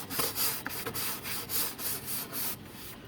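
A brush rubs over teak boards on a Boston Whaler boat, sweeping away sawdust in rhythmic back-and-forth scrubbing strokes, about ten in a row, close and quiet with no talking.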